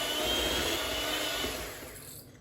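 Chocolate cookie mixture is whisked with cocoa powder, producing a loud, steady whirring rush that fades away toward the end.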